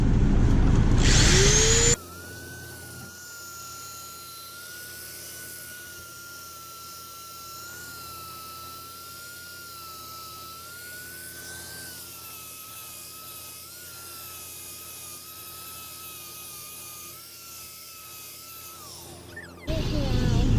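A wooden bowl spinning on a wood lathe is sanded, a steady motor hum with a high whining tone and soft abrasive hiss, close and sustained, bracketed by brief louder bursts at start and end.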